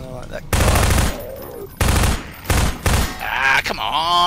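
Gunfire in Half-Life 2: several loud, close bursts of rapid shots in separate strings, with short pauses between them and a voice speaking over the end.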